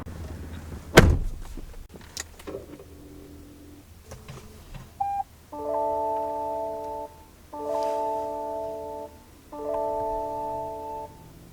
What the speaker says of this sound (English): the steering wheel is power adjustable